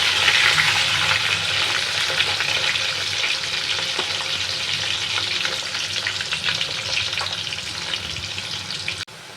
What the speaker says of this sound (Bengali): পেঁয়াজের তেলটা রয়ে গেছে, ওটার মধ্যেই আমি আলুটা ভেজে নেবো